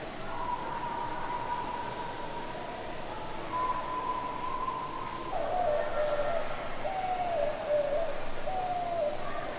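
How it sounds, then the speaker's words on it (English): A burrowing owl calls at a zoo: a long sequence of sustained, tonal hoots and coos, fairly close, with a steady low rumble underneath. "The burrowing owl."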